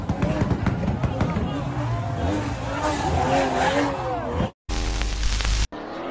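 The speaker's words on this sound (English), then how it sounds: "You drift with the Supra, and everyone will follow" Tires squeal and screech as a Toyota Supra drifts, engine roaring underneath with wavering pitch, followed by a brief loud rev after a cut.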